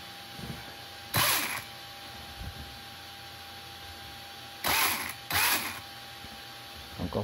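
An RC car chassis with a wheel and drivetrain set too tight turns in several short bursts of gritty, whirring mechanical noise separated by quiet pauses.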